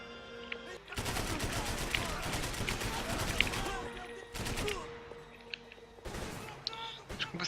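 Rapid bursts of machine gun or shotgun fire in Max Payne 3, loud and close, with short pauses between volleys and sharp single shots near the end, while someone talks over them.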